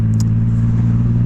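A 2022 Triumph Rocket 3 GT motorcycle engine runs close and loud, with a steady deep low rumble throughout, as if idling or revving gently, and no talking.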